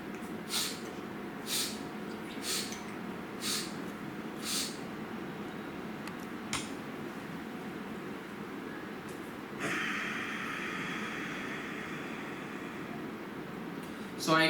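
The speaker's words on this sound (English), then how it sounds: "So I took 6 sniff of inhale, hold my breath, and 6 sniff of exhale." A breathing exercise: a series of short, sharp sniffing breaths, about six in steady rhythm, followed by a pause and then a longer hissing exhale, close up over low background hum.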